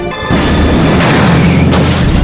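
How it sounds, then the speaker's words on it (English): A loud movie bomb blast from a car: a sharp onset followed by a sustained heavy rumble and crackling debris lasting about two seconds, with no talk. "With the explosion over,"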